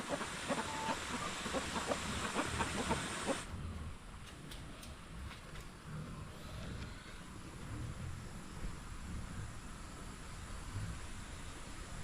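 Chickens cluck in the background amid steady noise, with a louder noisy stretch at the start before it settles.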